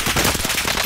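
Rapid automatic gunfire in Call of Duty Warzone, a dense run of close, loud shots with no pauses across the whole stretch.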